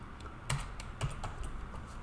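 Keystrokes on a computer keyboard while editing in Vim, a steady run of soft close taps with two sharper, louder presses standing out, no voices.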